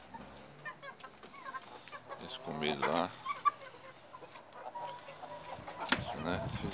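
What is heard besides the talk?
hens clucking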